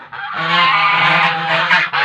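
A goose, a large domestic rajahans kept for eggs, gives loud, close, continuous honking calls in a harsh, nasal stream lasting about two seconds, with a brief pause near the end.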